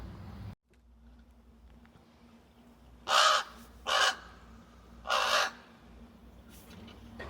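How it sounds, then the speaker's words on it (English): Three harsh caws ring out from nearby crows, spaced a second or two apart, over a quiet background hum. "here's those crows we were talking about, the little crow family."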